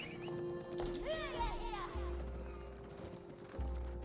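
Horses clop and a neigh rings out among cavalry in an Age of Empires 4 match between the Holy Roman Empire and the Byzantines, under steady commentary.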